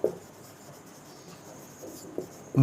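Chalk or marker scratches across a classroom board in short strokes, faint and close, with a few louder taps at the start and end of the writing.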